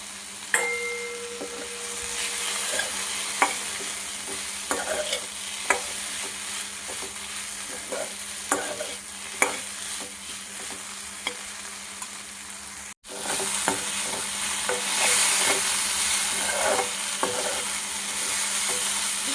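Ridge gourd and curry leaves sauté in a pan, a continuous soft sizzle broken by repeated sharp clinks and scrapes of a spatula stirring against the metal.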